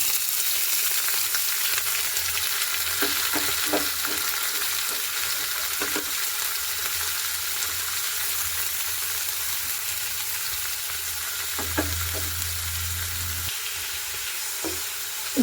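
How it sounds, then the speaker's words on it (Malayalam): Chopped onion, tomato and green chilli frying in hot oil, a steady close sizzle throughout with occasional soft stirring clicks and scrapes. "ചൂടാക്കി ആവശ്യത്തിന് എണ്ണയൊഴിച്ച് സവോളയും തക്കാളിയും പച്ചമുളകും കുറച്ച് ചെറുതായിട്ട് കുഞ്ഞായിട്ട് അരിഞ്ഞത് നമുക്ക് ചേർത്ത് കൊടുക്കാം"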